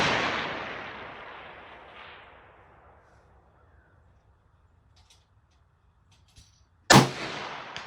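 A Mossberg MVP bolt-action rifle shot at a 220-yard range: a loud report decays into a long fading echo over a few seconds, followed by faint clicks and then a second sharp, loud shot.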